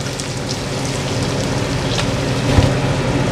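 Soy sauce hitting a hot pan of chicken liver and gizzard adobo with ginger and bay leaves, a steady, close, broadband sizzle that rises slightly partway through, with a brief bump near the end and no talking.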